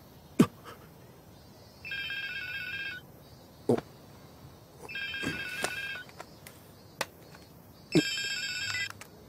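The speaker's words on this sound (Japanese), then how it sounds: "もしもしよう 真由ちゃん探したよ" Telephone ringing in an anime scene, three electronic ring bursts spaced a few seconds apart, each clear and fairly loud, with sharp clicks and knocks between the rings and no talk.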